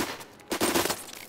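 A quick burst of Desert Eagle gunshots in CS:GO fired while moving, several sharp reports packed into about a second, close and fairly loud with no talk over them.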